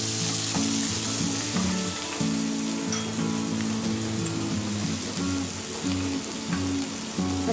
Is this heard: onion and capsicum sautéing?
yes